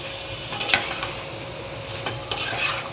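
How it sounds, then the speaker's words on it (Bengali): Taro stolons and jackfruit seeds being stirred into cooked spice paste in a pan, giving soft scraping and stirring with a few sharp utensil knocks and a faint sizzle, steady and close, with no talking. "সুন্দর করে নেড়ে চেড়ে সব একসাথে মিশিয়ে নিচ্ছি"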